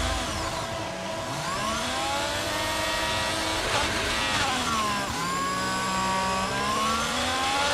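In the F1 2022 video game, an Alfa Romeo Formula 1 car races at Interlagos in wet weather, its high engine whine rising and falling as it accelerates through gears, loud and continuous with no talking.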